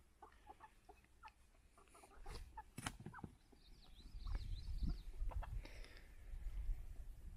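Backyard chickens and a rooster cluck softly in a coop while being given treats, faint and distant at first, then closer bursts over low rumbling handling noise.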